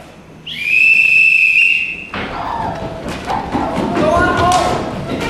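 A sharp whistle is blown once, loud and close, holding a steady piercing tone for about a second and a half before cutting off, followed by thumps, scuffling and voices in a busy room.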